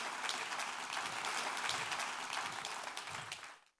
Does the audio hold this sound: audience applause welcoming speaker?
yes